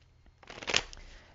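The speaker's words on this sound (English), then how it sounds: "I'm going to shuffle a little bit more as I go." Tarot cards being shuffled by hand, a short soft riffle of papery flutter that swells briefly in the middle and fades, faint and close with no talking.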